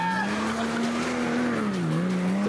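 A car pulling away under hard acceleration, its engine whine held loud and steady, climbing slightly in pitch, then dipping and rising again, continuous throughout without a break.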